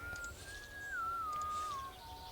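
A single thin, wavering whistle from a character in the video game The Stillness of the Wind glides slowly downward in pitch for about two seconds over faint background hiss.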